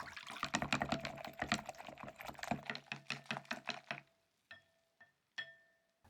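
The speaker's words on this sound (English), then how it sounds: "Crack the egg and beat it. It's important to mix the egg and water well." Egg being beaten with water for tempura batter, a rapid run of sharp rhythmic tapping and whisking clicks close up, then a few separate knocks after it stops.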